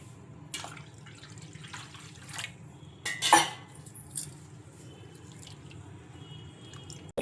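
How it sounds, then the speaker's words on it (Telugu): Idli rava being rinsed with water in a mixing bowl, with soft drips, splashes and a brief louder slosh near the middle, faint and close with no talking. "ఇలా 2 సార్లు శుభ్రంగా వాష్ చేసుకొని వాటర్ అన్ని వంపేసుకున్న తర్వాత"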